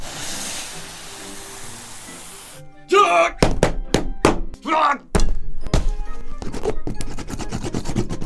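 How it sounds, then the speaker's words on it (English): Someone opens a mailed cardboard box, with a quiet stretch followed by loud, close tearing rips of tape and several sharp thumps and knocks as the flaps are handled. "All right, let's get this box open."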